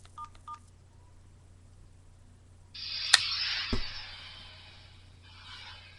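Two short electronic beeps from a mobile phone ring out near the start, then after a quiet gap a burst of bright, hissing tonal noise follows with a sharp click and a thump in the middle, fading out over several seconds.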